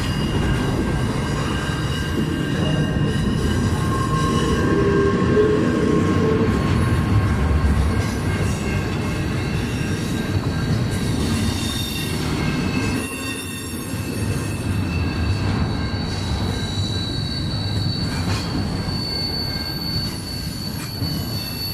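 A freight train of empty center beam cars rolls steadily past close by, with a continuous rumble and high, sustained wheel squeals that rise and fall throughout.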